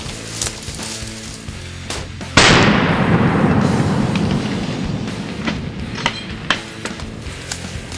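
A single loud rifle shot fired at a charging bull moose while hunting in Alberta, a sharp blast followed by a long rolling echo outdoors, with smaller knocks and rustles afterward.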